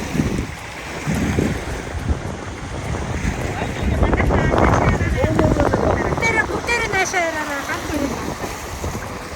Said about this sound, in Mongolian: Салхитай.